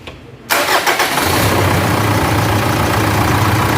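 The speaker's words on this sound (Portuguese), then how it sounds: "Agora a gente vai dar partida aqui pra ver o barulho do motor." A Mitsubishi L200 Triton 3.2 pickup engine, fitted with a new timing chain, cranks and catches with a loud, close burst and then settles into a steady idle.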